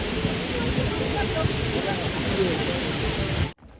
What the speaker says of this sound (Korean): 용추폭포의 물소리가 시원합니다.